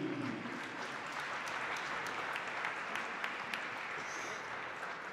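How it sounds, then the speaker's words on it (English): Steady, dense applause from a large crowd at a basketball game during player introductions, continuous clapping at an even level throughout with faint cheering mixed in. "Big round of applause for Ratan."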